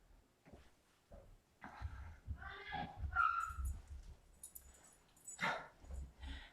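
Faint indoor sounds of a puppy barking and whimpering from another floor, in short high yelps and whines spread across several seconds, distant and low in level.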